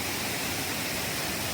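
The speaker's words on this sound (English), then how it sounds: "Right before us stand the majestic Olu Ella Waterfall, where enormous volumes of water plunge gracefully down a rock face." Olu Ella Waterfall in Sri Lanka, a large volume of water plunging down a rock face, gives a steady, dense, broadband roar that holds constant and fairly loud throughout with no talk.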